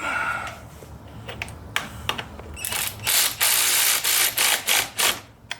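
Ratchet wrench snugging nuts with washers and locking washers back onto an '83 Honda Goldwing motorcycle, a run of close, sharp clicking bursts that grow louder and denser toward the end.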